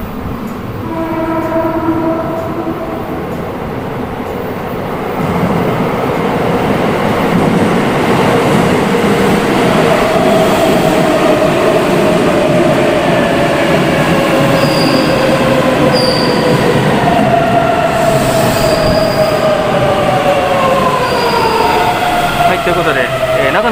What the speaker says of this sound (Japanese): 電車がね、もう1本来るんで